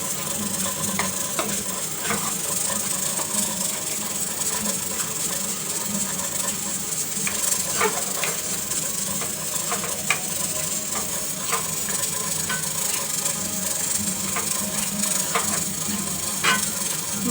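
Spiced masala sizzles and hisses in hot oil on a low gas flame for a homemade chicken gravy, with a constant frying crackle and occasional scrapes of a spoon stirring it, close and steady with no talking.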